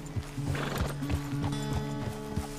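Horse hooves clip-clop in a steady rhythm with a whinny partway through, from a horse in Red Dead Redemption 2; close and fairly loud, with soft ambient game sound beneath and no talk.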